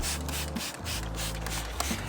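Water sprayed steadily over the carbon fiber roof of a BMW E92 3 Series to check for leaks, a constant close hissing wash with a low rumble underneath and no talking.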